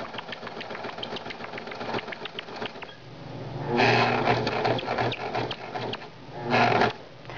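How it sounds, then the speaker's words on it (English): A sewing machine stitches fabric in bursts, a steady mechanical whir and clatter up close that pauses briefly and starts again, with one louder surge in the middle and another short burst near the end. "I'm going to sew."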